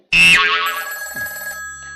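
A telephone bell rings once, loud and close, starting abruptly with a sharp electronic trill and then decaying in a fading tonal ring over about two seconds, with nothing else heard.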